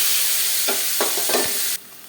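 Steady hiss of sliced onions sizzling in hot oil with whole cardamom and cinnamon, with a few scraping stirs, then the sizzle drops quieter near the end.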